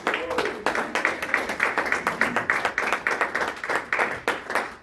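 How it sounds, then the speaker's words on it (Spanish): A church congregation claps in a loud, rhythmic run of hand claps, a regular beat of sharp strikes kept up throughout. "Dale un fuerte aplauso a Dios."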